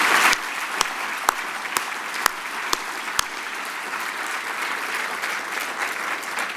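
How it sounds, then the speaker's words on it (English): An audience at the 2019 SEO Scholars Achievement Benefit dinner applauds in a steady, dense wash of clapping, with a few sharp louder claps standing out early on. "Let's give a round of applause to our two honorees here."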